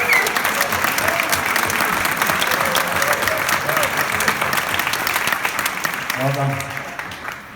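Audience applause at a Band of Brothers question-and-answer event, a steady dense wash of clapping that fades near the end as a voice speaks briefly over it.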